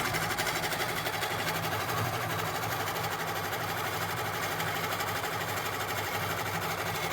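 A computerized quilting machine stitches straight half-inch lines across a quilt, giving a steady, rapid mechanical hum and needle chatter that runs continuously and evenly throughout, close and fairly loud with no talking.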